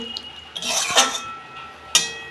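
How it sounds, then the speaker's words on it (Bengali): A cooking pot lid lifted off a simmering pot of kohlrabi and soybean curry: two sharp metallic clinks of lid against pot, close and clear, over a faint kitchen background. "দেখুন বন্ধুরা ঢাকনা খুলছি"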